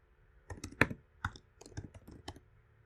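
Someone types Python code on a computer keyboard: about a dozen sharp, close keystroke clicks in an uneven rhythm, some in quick clusters, with quiet gaps and no talking.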